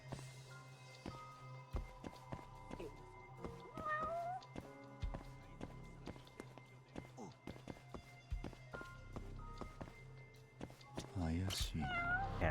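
A cat meows in the video game Judgment. Several drawn-out meows rise above game sounds of footsteps, soft thuds and clicks, at a moderate level, with a brief chirpy cry near the end.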